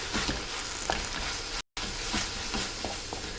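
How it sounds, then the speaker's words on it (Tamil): Tomatoes with masala powder sautéing in a pan for a village-style dry fish curry, a steady close sizzle with soft stirring scrapes throughout and a brief cut of silence midway. "சேர்த்துட்டு இதையும் நல்லா வதக்கிக்கலாம்."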